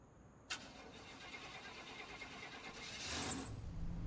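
A 1990s Ford OBS pickup truck engine cranks and catches with a sharp onset, then settles into a steady mid-pitched idle. A louder rush near the end is picked up nearby, outdoors on a farm, with no one talking.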